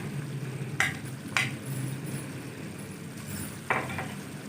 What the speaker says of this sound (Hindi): लहसुन अदरक का पेस्ट डालेंगे 1 चम्मच।